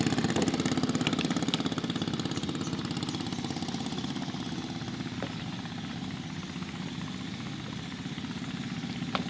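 A sand-dredging boat on the Kapuas Murung river idles with a steady, close mid-range engine rumble that stays fairly even, with a few faint knocks and no talking.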